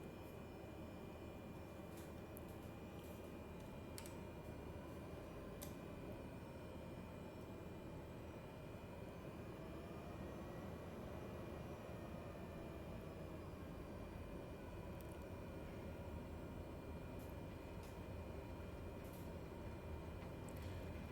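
Cessna 208B Grand Caravan in Microsoft Flight Simulator 2020, a steady low turboprop drone while taxiing on the ground, continuous and fairly quiet with faint clicks and no talking.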